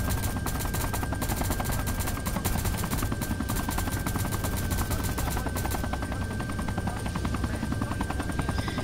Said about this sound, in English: That chopper is over there.